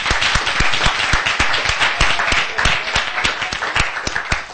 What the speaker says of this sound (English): let's give her a round of applause to embarrass her